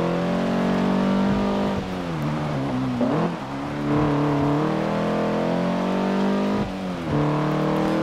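Race car engines in Forza Motorsport 7 whine and rev continuously at close range, with pitch rising and dropping through gear shifts and corners, and no talking.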